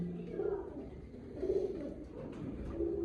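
Racing pigeons at a breeder's loft coo in low throaty bursts, several overlapping calls repeating every second or so, close by under a faint murmur of background noise.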